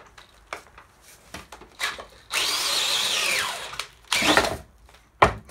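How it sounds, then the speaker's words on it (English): A power drill bores into a well-seasoned log, whining in a sustained burst of about two seconds, then a shorter burst, among knocks and handling noises close by. "I think the drill might be a little bit too powerful"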